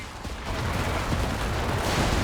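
Vickers machine gun suppression fire in Company of Heroes 3, a dense, continuous rattle of automatic gunfire with battlefield noise, steady and fairly loud throughout with no pause.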